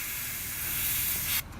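Badger Krome airbrush spraying a broad pattern at low pressure, a steady close hiss that runs continuously and then cuts off sharply near the end.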